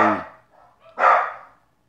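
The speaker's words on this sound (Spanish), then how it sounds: "ya ladraron los perros de afuera y ahorita van a ladrar el de adentro" A dog indoors gives two short barks close by, with a brief pause between them and quiet afterward.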